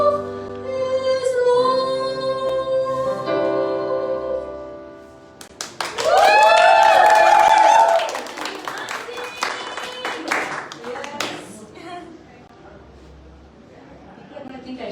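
A small crowd gives scattered applause of moderate loudness that swells briefly and then thins out. A voice talks and sings over the clapping.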